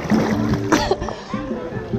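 A person drops into water with a sharp splash, followed by brief splashing, while voices call out and talk over it.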